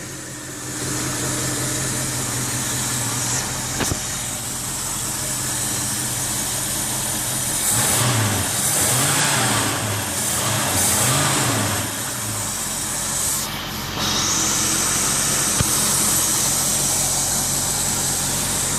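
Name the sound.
1973 Mercury Cougar XR-7 car engine starting and running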